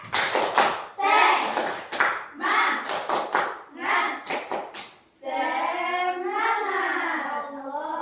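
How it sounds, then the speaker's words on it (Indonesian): A school class performs a 'tepuk semangat' clapping chant, with rhythmic group hand claps punctuating the first five seconds, followed by children's voices speaking and chanting together loudly. "Tepuk semangat."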